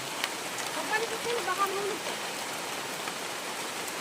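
Rain falls steadily outdoors, a constant broad hiss of drops on surfaces that holds evenly from start to finish.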